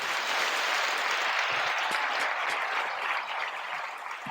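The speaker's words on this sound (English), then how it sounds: "Let's give her a round of applause, huh?" A round of applause from a live audience fills the whole stretch, dense and steady, with scattered louder claps and a slight fade toward the end.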